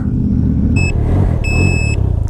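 A 2020 Can-Am Ryker three-wheeled motorcycle beeps in two high-pitched electronic tones, one brief and one longer, over a steady nearby engine rumble.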